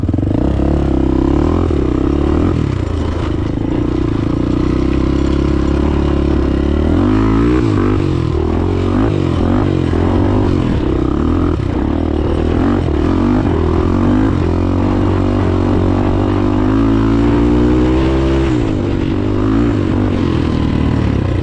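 A Honda 400EX ATV engine revs loud and close while being ridden, its droning roar rising and falling continuously, with rattling chassis clatter and scraping mixed in throughout.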